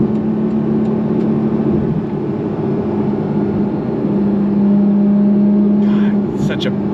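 A 2025 Porsche 718 Cayman GTS engine accelerating under load, a steady droning tone that rises and holds loudly from inside the cabin, with brief road and wind noise near the end.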